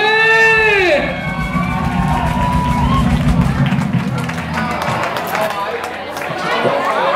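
A concert audience bursts into dense applause and cheering for a singer right after a sustained sung note ends. The crowd noise is loud and continuous, with music and voices faintly surfacing near the end.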